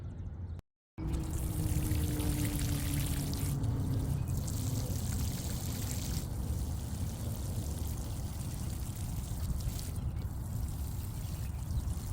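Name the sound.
watering freshly planted flowers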